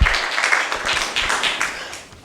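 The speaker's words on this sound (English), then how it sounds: "Please give Jay another round of applause for his expertise." An audience applauds a speaker at a Seattle community event on urgent Somali immigration policy updates. The clapping is steady and dense throughout, with crowd-wide bursts that ease off toward the end.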